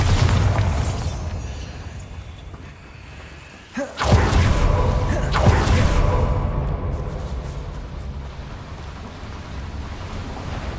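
A Bombarda blasting spell explodes in Hogwarts Legacy, a single sudden heavy blast that rolls into a long rumbling, windy roar fading slowly, with no voices.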